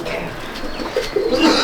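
Domestic pigeons, a pair of golden Chatiyal Dobaj birds, coo softly in a loft in Malda district, their low burbling calls near and steady over a faint background hiss.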